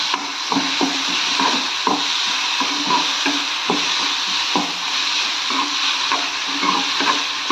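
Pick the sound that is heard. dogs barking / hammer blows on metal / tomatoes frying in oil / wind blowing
tomatoes frying in oil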